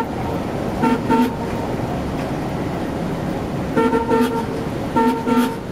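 Car horns toot in short double beeps, three separate bursts spaced apart, over a steady background of traffic noise in La Perla, Puerto Rico.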